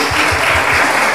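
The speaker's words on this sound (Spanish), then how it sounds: "aplaudamos a ella" Dense applause from an audience at a talk in Capilla del Monte, a brief, loud, even burst of many hands clapping together with no pauses.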